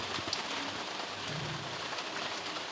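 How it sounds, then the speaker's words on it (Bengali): Steady rain falls with a soft, even hiss, faint and continuous, with occasional drops standing out. "সেই থেকে বৃষ্টি পড়েই যাচ্ছে পড়েই যাচ্ছে"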